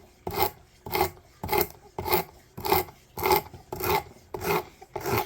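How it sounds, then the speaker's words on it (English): An M&P Extreme Ops karambit folding knife is ground on 50 grit sandpaper on a Work Sharp precision sharpener, giving a close, loud, rasping scrape repeated in nine even strokes about every half second. "But this 50 grit sandpaper really cuts into it really nice and fast."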